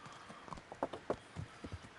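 Horse hooves clip-clop in an uneven rhythm at a walking pace in the video game Kingdom Come: Deliverance, fairly faint and sounding synthetic, with a low background hum.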